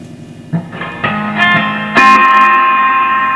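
A Fender Blues Deluxe III valve amp, just repaired for blown fuses and missing reverb, rings out a few picked guitar notes and then a strummed chord, each left hanging in a long spring reverb tail.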